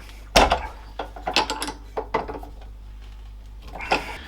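The chuck of an Energer drill press is twisted tight with a series of close, sharp ratcheting clicks and clunks, irregular and in short bursts.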